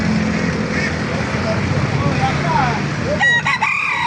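Roosters crow and chickens cluck amid a busy, noisy market crowd in Baliuag, Philippines, with people talking over the birds.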